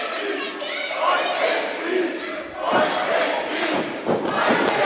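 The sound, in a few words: wrestling crowd chanting "KC"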